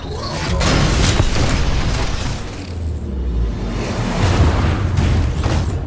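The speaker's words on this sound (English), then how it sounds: "As for your super, that's Flame Core, where you send out a thermite shockwave to engulf targets in your path." Flame Core super from Titanfall 2, a thermite shockwave sweeping out to engulf targets: a loud, continuous roaring blast with deep rumbling booms and crackling bursts that swell and recede over several seconds.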